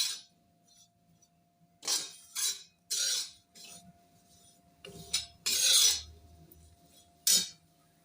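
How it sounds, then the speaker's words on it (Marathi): Grated ingredient dry-roasting until crisp in a pan, heard as short bursts of rasping, scraping stirring strokes spaced out over a quiet background, with no one talking. "हे बघा, अशा पद्धतीने आपण ते खरपूस भाजून घेऊया."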